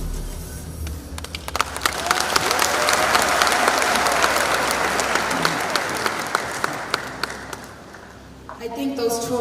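Loud, sustained audience applause with cheering at a presidential launch of the Munhumutapa Challenge Cup football tournament, swelling in the middle and tapering near the end, with voices mixed into the crowd.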